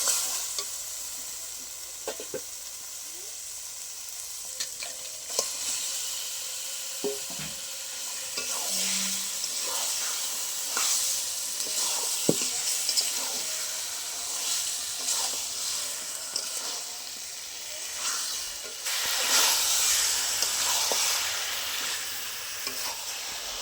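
Salted chicken pieces drop into hot fried spice masala for bhuna chicken and sizzle steadily, with a continuous frying hiss and occasional stirring scrapes and clinks, close up and with no talking.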